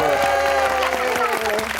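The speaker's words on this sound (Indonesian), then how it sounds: "Ayo tepuk tangan dulu." Hands clapping in applause at an Indonesian family gathering with children, loud and steady throughout a short burst, with lively voices mixed in.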